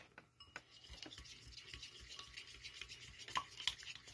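A spoon stirring an aloe vera and honey mixture in a bowl, soft repeated scraping and rubbing strokes with a few light clinks, close and fairly quiet.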